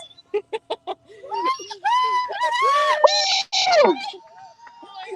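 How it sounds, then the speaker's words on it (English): Screaming, shouting and high cheering from a crowd as a women's rowing crew finishes an Atlantic crossing, loud drawn-out cries and whoops close by after a few short sharp sounds. "all the screaming and shouting and singing results in"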